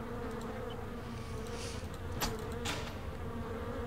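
Steady buzzing of insects in a video game, a continuous drone with a couple of sharper swells partway through and no talking.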